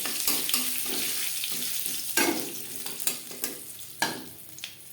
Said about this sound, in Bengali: পটল ভেজে নেওয়া কড়াইতে আবারও তেল দিয়েছি। ফোড়নে দিয়ে দেবো গোটা জিরে।